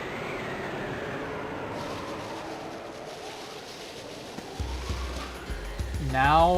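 A train in the Sonic Adventure video game rumbles and rolls along with low mechanical drone and a rising whine near the end, moderately loud, over game music.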